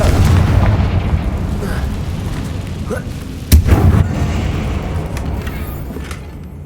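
Confringo blasting spell explosions in Hogwarts Legacy, a video game: rumbling booms over a busy game soundscape, with one sharp, louder blast partway through.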